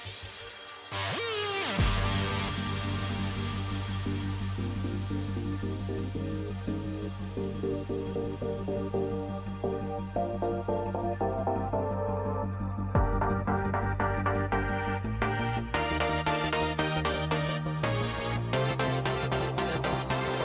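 Electronic rave track build-up in an alternate version, a dense driving synth pattern over steady bass pulses that rises and thickens, loud and continuous with no talk.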